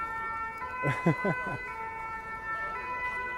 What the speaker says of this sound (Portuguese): Olha aí a sirene.